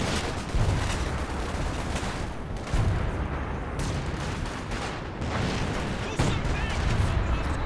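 Bren guns and other small arms fire in a Company of Heroes 2 battle, with dense overlapping bursts and booms of a busy firefight throughout and a voice commentating over the top.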